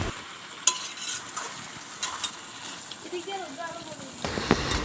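Mutton and potatoes stir-fried in a pan, a soft steady sizzle with scraping stirs and clinks of the spoon, heard close, a louder burst of frying near the end.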